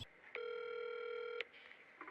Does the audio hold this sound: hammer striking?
no